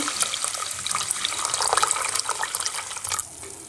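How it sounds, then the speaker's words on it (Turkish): Boiled hot water poured into a pot of washed black beluga lentils, a continuous close splashing gush lasting a few seconds before tapering off, with no talk over it. "Şimdi kaynatmış olduğum suyu döküyorum. Sıcak su."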